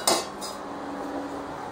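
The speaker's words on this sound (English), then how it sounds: "I'm going to clean out my mash tun. I have a bag that the grains came in. I have a scoop to scoop them out." A scoop clatters against a mash tun at a homebrew setup while soggy spent grains are dug out, one sharp metallic scrape up front and a softer knock after, with a steady low background hum.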